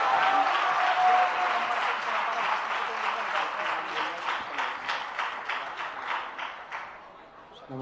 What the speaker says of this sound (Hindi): एक बार तालियां सबके लिए जोरदार